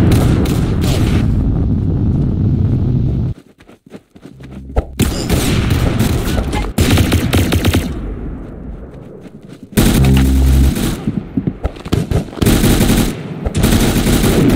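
Bursts of rapid automatic gunfire in the Roblox shooter game Arsenal, loud and dense, broken by brief lulls and resuming in long sustained volleys.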